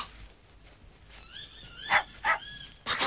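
A few sharp German shepherd barks ring out close by over a quiet background, with whining tones between them.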